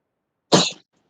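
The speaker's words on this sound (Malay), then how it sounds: "Ada orang batuk. Siapa yang batuk?" A single short cough from someone in a primary school classroom, sharp and close, standing alone against near silence.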